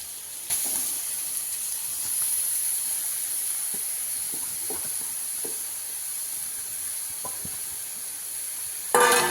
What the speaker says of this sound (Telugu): సిమ్లో పెట్టి ఫ్రై చేసుకోవాలి దీన్ని ఇది పచ్చివాసన మొత్తం పోయేంత వరకు బాగా ఫ్రై చేయాలి